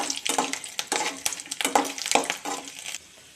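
Garlic and dried chillies fry in hot oil for a spicy chutney, a crackling sizzle broken by repeated scraping stirs in a rhythmic pattern, close up, before settling into a quieter hiss.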